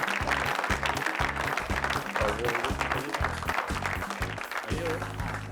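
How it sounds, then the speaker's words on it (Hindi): Studio audience applause on a comedy talk show, a busy clatter of many hands clapping in fast bursts, with a voice rising briefly above it. "तालियां"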